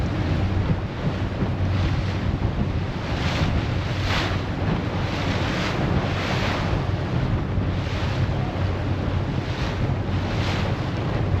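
A boat runs out onto freshwater Lake Michigan near Montague, with steady wind buffeting the microphone and a continuous wash of water and hull noise throughout.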